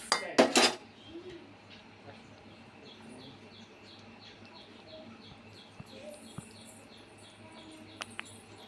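A spoon clanks loudly against a pot in a short burst while boiled peas for kurma are mixed, followed by near quiet with faint bird chirps and occasional small taps.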